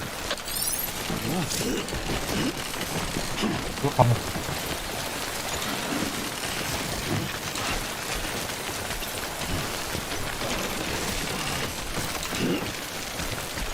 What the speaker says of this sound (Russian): Сэм, длительное воздействие темпорального дождя повреждает контейнеры.